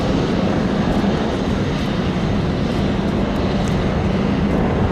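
A Sikorsky CH-53K King Stallion heavy-lift helicopter with three GE-38 engines flies a display at an air show, producing a continuous, loud, broadband engine roar that holds steady throughout.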